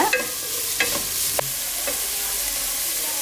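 Cauliflower, vegetables and rice stir-fried in a pan with soy sauce and pepper powder, a steady close sizzle with a few sharp scraping stirs of a spatula early on, no talking.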